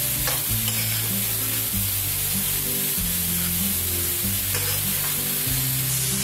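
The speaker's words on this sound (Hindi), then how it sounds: "जब तक हमारी गाजर यहाँ पर फ्राई हो रही है" Grated carrots fry over a medium flame in a pan for carrot kheer while being stirred, giving a steady, loud sizzling hiss throughout with a low tonal background running underneath.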